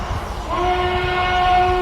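Southern Pacific Desert 5 chime train whistle on Dread 46, a steady multi-tone chord that sounds clearly and holds after a low rumbling start, loud and close over the rail rumble.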